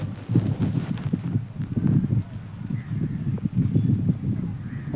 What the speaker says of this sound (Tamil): காற்று எப்படி இருக்குது பாருங்கள் சவுண்டு